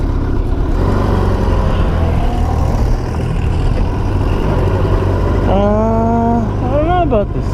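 A Honda Goldwing motorcycle engine runs steadily on a test ride, a constant low rumble that lasts throughout, with a voice briefly rising over it near the end.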